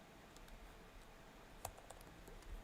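Light keyboard typing on a computer while cutting and pasting text, faint and fairly sparse, with a few sharper clicks and keystrokes scattered over a quiet room background.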